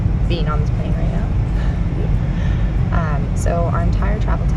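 Steady airplane cabin drone during a long-haul flight, a loud, constant low roar filling the background while people talk over it.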